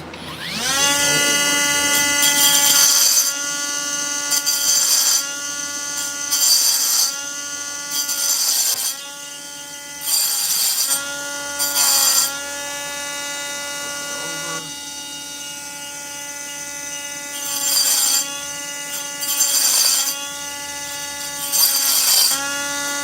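A high-pitched rotary tool drills into agate stone in repeated whining bursts of a few seconds each, close and loud, with short pauses between passes and no talking.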